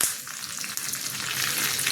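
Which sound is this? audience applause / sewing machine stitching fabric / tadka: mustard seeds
tadka: mustard seeds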